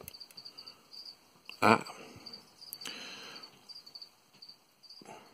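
A cricket fed to a pet in its enclosure chirps in faint, repeated high trills against a quiet background, punctuated by a short loud exclamation from a person and some handling noises.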